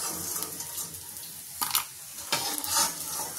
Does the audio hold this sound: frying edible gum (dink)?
yes